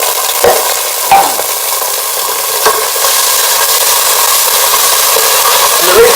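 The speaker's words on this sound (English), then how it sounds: "you put the curry paste in first, so it fries up" Thai red curry paste fries hard in a hot pan, a loud steady sizzle with a few sharp scrapes and clicks as it is stirred.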